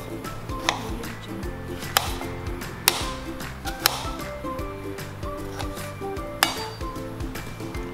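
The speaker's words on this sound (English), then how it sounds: "Take these tomatoes and chop them into halves." A knife chops tomatoes into halves on a cutting board, giving sharp, irregular clicks and knocks close by over a steady background, with no talk.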